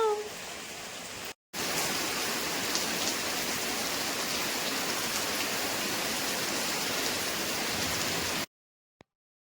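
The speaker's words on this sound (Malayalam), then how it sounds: "അത്യാവശ്യം നല്ല മഴ പെയ്യാൻ തുടങ്ങിയിട്ടുണ്ട്" Steady, dense rainfall in Kerala hissing evenly for several seconds, starting and stopping abruptly, loud and close with no voices.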